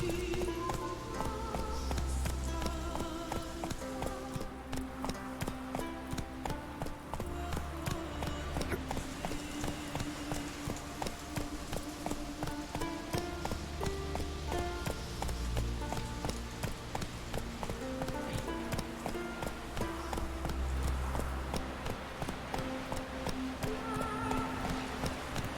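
Horse hooves gallop in Witcher 3 Wild Hunt, a steady rapid clip-clop running throughout alongside looping music and ambient game sound.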